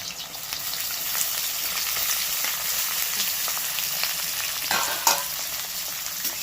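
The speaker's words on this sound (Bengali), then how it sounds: "এবার আলু আর পেঁয়াজটাকে ভালো করে ভেজে নিই।" Potatoes and two large onions frying together in a pan for a dried-fish dish, a continuous close sizzle with occasional stirring clicks and scrapes, no voices.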